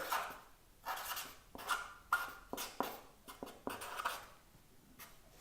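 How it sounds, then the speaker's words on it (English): Writing on a surface, heard as a quiet series of scratchy strokes in short bursts with brief pauses, close and soft, with no talking. "I'm just going to write here."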